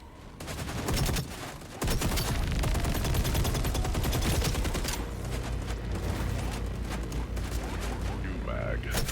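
Computer-controlled enemies fire on the player in the shooter game Operation Avalon, with rapid bursts of automatic gunfire crackling continuously at loud volume and dense overlapping shots throughout.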